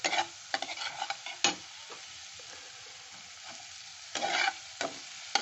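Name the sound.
stirring and frying ginger garlic paste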